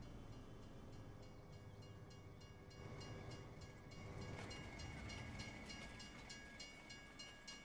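A train in Farming Simulator 25 rumbles past steadily, with a continuous low rolling roar and rhythmic clicking of wheels over rail joints, fairly close and without talk.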